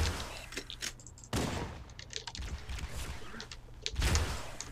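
Gunfire from Halo: Combat Evolved on Legendary difficulty during the Silent Cartographer mission. Sharp shots crack out in irregular bursts, some loud and close, over a low rumbling game backdrop.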